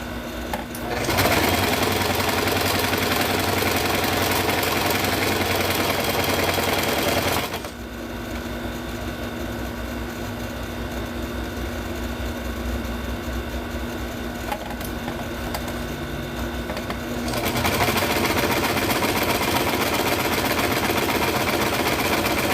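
Sewing machine stitching lace panels, running loud and steady in long continuous bursts with a quieter stretch in the middle, no talking over it.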